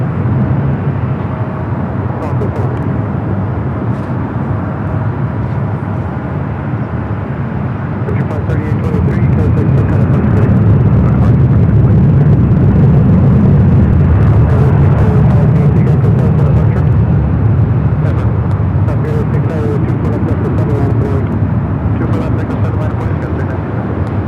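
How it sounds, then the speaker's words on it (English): A Western Global 777 freighter taxis along a taxiway at LAX, its jet engines a steady low rumble that swells in the middle. Wind buffets the microphone and a voice talks over the sound. "Got that Western Global Queen rolling down to taxiway Alpha there on the south side"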